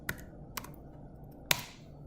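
Three separate keystrokes tap on a computer keyboard while a command is typed on a Raspberry Pi setup. Each click is crisp and close, over a low, faint background hiss.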